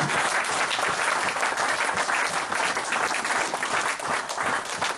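A church congregation applauding at a sermon's close, a dense continuous wash of many hands clapping, loud and sustained throughout, with faint voices mixed in.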